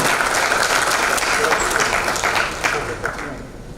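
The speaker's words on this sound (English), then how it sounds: "Let's give a big round of applause" An audience at an entrepreneurship conference in Chandigarh applauds a speaker invited onto the stage, giving dense, sustained clapping from a large crowd that gradually fades.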